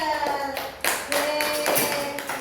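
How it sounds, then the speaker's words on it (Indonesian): Children in a classroom clap for a classmate in short, uneven bursts of handclaps, fairly close and lively, with a faint voice underneath. "tepuk tangan untuk Mbak Angel"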